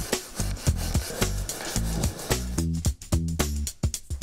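A power drill drives screws into a wooden bookshelf in a rapid series of short whirring bursts with gritty rubbing between them. The sound is close and steady in rhythm, with no talking.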